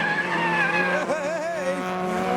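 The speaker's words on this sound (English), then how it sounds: "a lot of the Civics are almost spinning out over there" Tires squeal in long wavering shrieks as cars drift around a paddock at a modified car show, engines droning underneath, loud and fairly close.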